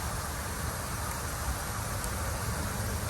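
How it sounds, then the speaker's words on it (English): Bacon frying in a pan at a lakeside campsite, recorded up close as a steady, dense crackling hiss that holds evenly throughout with no voices. "That's what bacon sounds like when it cooks."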